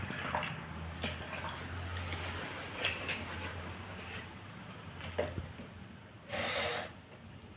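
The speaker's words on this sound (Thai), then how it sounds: "เทน้ำใส่แก้ว" Water poured into a glass for a simple home experiment: a soft splashing trickle under faint background noise, ending in one short, louder rushing pour near the end.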